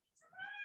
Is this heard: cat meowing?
yes